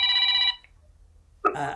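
A basic non-smartphone mobile rings with an electronic tone, one burst of bright warbling notes, a short silent gap, then the ring starting again, close and clear.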